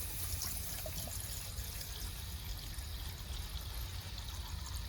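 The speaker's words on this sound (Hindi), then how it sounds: "ये गया इसमें पानी" Water pours steadily into a cooking pot for noodles at an outdoor night camp in a forest, a continuous low splashing trickle heard close up for several seconds.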